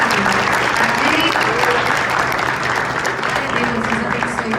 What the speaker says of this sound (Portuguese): Eu quero uma salva de palmas para os jovens abençoados.